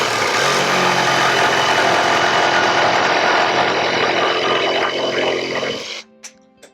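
A Ryobi cordless reciprocating saw cuts through a board with a loud, close, continuous buzzing rattle for about six seconds before it stops abruptly, leaving only faint knocks.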